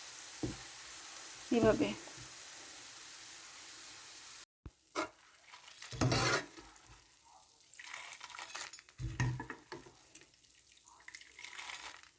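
Gram flour (besan) sizzles and fries in a pan over medium-high heat while being stirred, with scraping bursts of stirring and frying noise between quieter gaps, and a brief spoken word.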